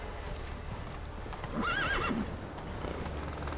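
A horse in The Witcher 3 gallops with a steady clip-clop of hooves, and midway through a loud neigh rings out over the hoofbeats.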